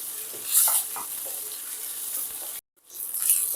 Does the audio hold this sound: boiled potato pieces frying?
yes